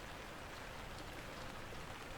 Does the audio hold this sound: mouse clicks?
no